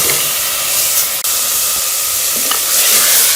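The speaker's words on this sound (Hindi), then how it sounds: "अच्छी तरह से साग को भून लेंगे" Pumpkin leaf greens with chopped green chili fry in a pan with a steady, loud, close sizzle and hiss, stirred along the way, with no talking.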